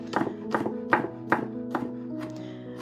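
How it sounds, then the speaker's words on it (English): A knife finely slices green onions on a cutting board, giving a run of about seven crisp, evenly spaced chops, close and clear with no talk over them. "here I have some green onions, and I'm just going to finely slice them"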